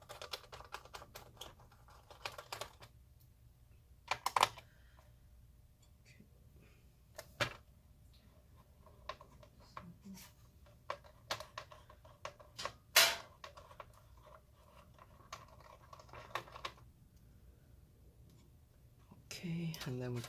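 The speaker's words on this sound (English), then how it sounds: "remove the big screws from the bottom here" Small clicks, taps and scrapes from a screwdriver removing screws from the bottom of a Panasonic Toughbook CF-54 laptop, sparse and close, with quiet talking in the background.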